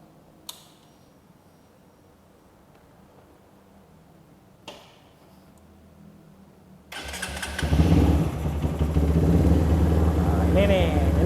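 A custom 155 cc bored-up cafe racer motorcycle gives a couple of quick clicks, then cranks and fires into a loud, close, steady idle.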